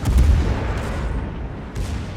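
Torpedoes fired from a warship in a naval clan battle game, a heavy low boom at the start followed by a rumbling, sustained low roar with a couple of faint bursts, no talk.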